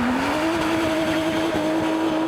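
A high-tech Porsche sports car engine holding a steady, loud tone under load as it drives past at speed, with a faint tyre hiss beneath.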